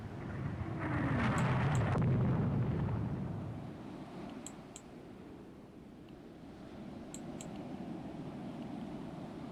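Battleship gunfire and shell hits in the naval strategy game Rule the Waves 2: a deep, rumbling boom swells and fades over a couple of seconds, followed by a low, steady background hum with faint high blips.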